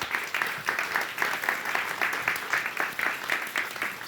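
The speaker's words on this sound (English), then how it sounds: "please give yourselves a round of applause" An audience at a company's annual general meeting gives a round of applause, a moderate-sized crowd clapping with distinct, uneven claps in a fairly close room, continuous throughout.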